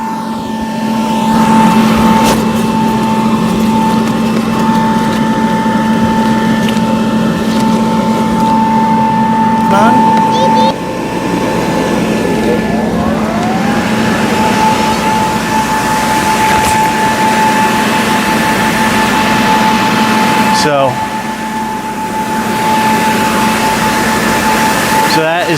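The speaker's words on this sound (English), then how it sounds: "Let's set up the second blower." Electric blower for an inflatable paint booth running, a loud steady motor whine and airflow roar that goes on throughout, with a brief dip and pitch change partway.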